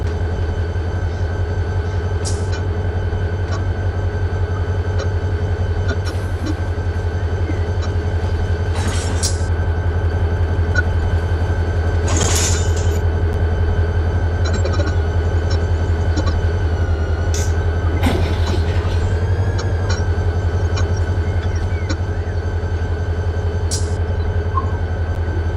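Train rolling along rails in the Run8 Train Simulator game, a steady low rumble with a sustained hum and faint clicks and squeaks rising now and then over about twenty-five seconds, no voices.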